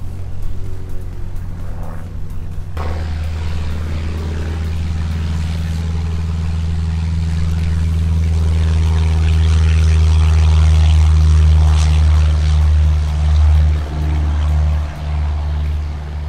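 A Robin light propeller airplane touches down and takes off again at once, its engine droning loud and steady, swelling to a strong roar that wavers as it climbs away.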